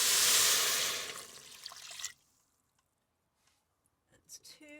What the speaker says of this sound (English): now I'm going to add 2½ cups of water